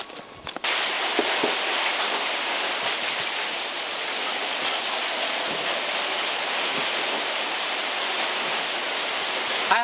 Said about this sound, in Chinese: 马上要下大雨了，这个蜜蜂也都进去了